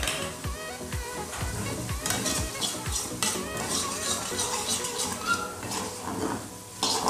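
Chopped tomato going into a spice paste frying in a pan for katla fish curry, with steady close sizzling and scraping stirs, a few louder clatters of the spoon against the pan.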